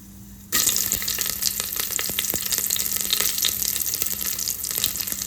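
Garlic and curry leaves fry in hot oil with mustard seeds for mango chitranna, a loud, dense sizzle with sharp crackles and pops that bursts in abruptly after a brief quiet moment and then holds steady.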